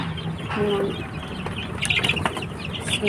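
Hungry chickens cluck near at hand while waiting for feed, with overlapping clucks, a brief flutter and faint background voices.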